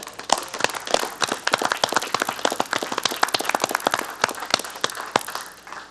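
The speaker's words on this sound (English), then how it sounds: "we all should give him a nice big round of applause for his birthday" A room of people at a city council meeting claps together in a dense, lively round of applause for a birthday, with sharp overlapping claps lasting several seconds and slowly thinning out.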